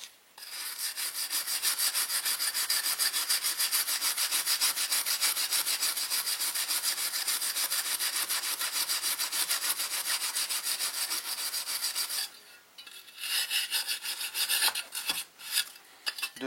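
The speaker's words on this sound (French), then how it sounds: "Une fois le surplus trop enlevé, vous prenez une brosse métallique, vous frottez, vous frottez, vous frottez." A wire brush scrubs hard and continuously over the head gasket surface of a Honda GCV 190 engine, a close, loud rasping that runs for about twelve seconds, then breaks into shorter uneven strokes.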